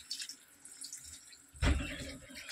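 Water poured into a pot of vegetarian potato curry, arriving as a sudden loud splash and gush about two-thirds of the way in and then running on steadily under a faint background hiss.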